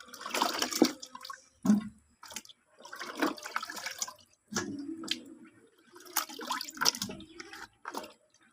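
Water splashes and drains in uneven bursts from freshly cut, washed taro root pieces scooped into a strainer, with pauses between the pours and no speech.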